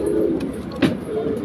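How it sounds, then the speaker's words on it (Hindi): Soft, low cooing of cream-colored Saharanpuri Lalsara pigeons close by, repeated over a faint background murmur, with one brief louder rustle in the middle. "ये क्रीम के कबूतर हैं।"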